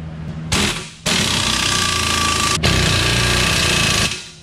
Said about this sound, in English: is tighten up all the bolts.